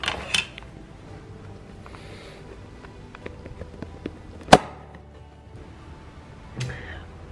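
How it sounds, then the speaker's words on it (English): A scribed Kydex thermoplastic sheet is snapped into pieces by hand, with one sharp crack standing out clearly amid quieter creaks, taps and handling noise. "then I can just scribe it down here, and then I can just break it"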